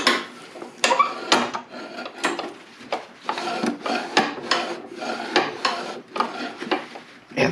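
Old grease being scrubbed off a part from a vintage Snapper I422 snow blower, a rhythmic rasping rub in repeated strokes, close and steady with no talking.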